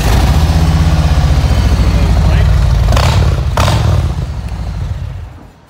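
A 2018 Harley-Davidson Street Glide Special runs indoors, its loud, close, rumbling V-twin idle with a steady pulsing throb and a brief blip before it tapers off, while a person talks over it.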